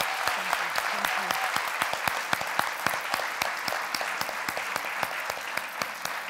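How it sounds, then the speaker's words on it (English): An audience claps for author Valeria Luiselli at a talk, a dense and steady round of applause with sharp individual claps that holds at an even level throughout. "give a round of applause to Valeria"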